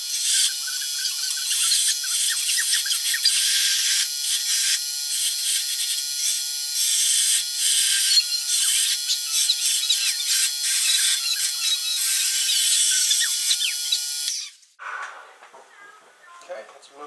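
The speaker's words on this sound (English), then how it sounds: "Let me sharpen up this blade a little bit." A blade for a tool handle is sharpened with rapid, rhythmic scraping strokes that continue steadily for about fourteen seconds before stopping, leaving faint handling noise.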